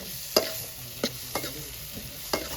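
Tomatoes, capsicum and other vegetables cooking in a pan for pav bhaji, a soft sizzle broken by a handful of sharp spatula taps against the pan, close by.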